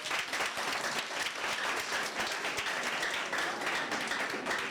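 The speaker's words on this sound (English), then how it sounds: "Let's clap hands for them." A seated audience at a science question session claps hands in steady, even applause. The sound is moderately quiet and continues without letup for several seconds.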